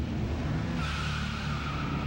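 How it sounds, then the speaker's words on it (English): Stock cars race with engines droning loudly while a tire squeal rises partway through and holds to the end, continuous and close. "Stock car."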